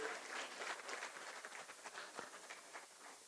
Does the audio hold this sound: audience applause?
yes